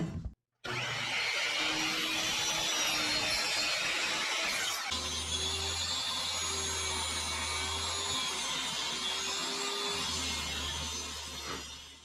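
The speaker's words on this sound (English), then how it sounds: "I'm going to get this over to the saw and get it cut down." Power saw cutting through a wooden board for a wall-mounted triple candy dispenser, a loud steady whine running almost the whole time with a brief pause near the start and a shift in pitch midway, no talking.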